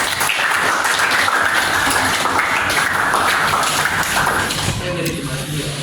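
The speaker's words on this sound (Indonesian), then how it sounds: "tangan dulu untuk kita semua." Classroom applause from a group of students, a dense, steady wash of clapping that fills nearly six seconds at full strength and thins slightly near the end, with voices mixed in.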